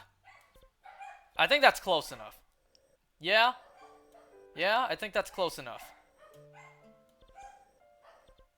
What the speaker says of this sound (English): You guys can hear my dogs barking,